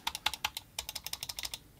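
Button clicks on a Logitech G603 wireless gaming mouse with Omron switches, a rapid, crisp run of about eighteen close, sharp clicks in steady rhythm, with no talking.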